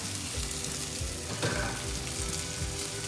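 Butter chicken sauce sizzles and fries steadily in melted butter and oil, a loud, continuous crackling hiss with occasional stirring scrapes and no talking.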